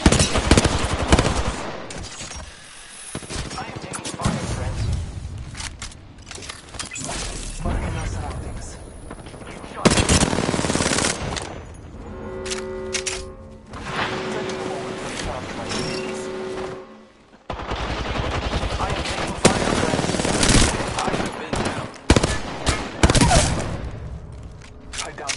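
Gunfire in a first-person shooter game, with bursts and volleys of shots breaking out repeatedly across a busy, cluttered mix of game effects, plus brief tonal game sounds midway and voices heard at times.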